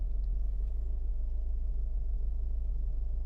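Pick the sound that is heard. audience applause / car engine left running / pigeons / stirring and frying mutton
car engine left running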